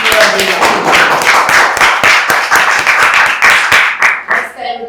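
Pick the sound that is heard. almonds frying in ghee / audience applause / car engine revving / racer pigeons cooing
audience applause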